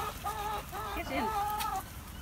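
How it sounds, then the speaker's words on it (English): A hen clucking and calling close by on an allotment, a few short harmonic squawks in quick succession, with light outdoor background noise. "Margaret, you're a very naughty hen."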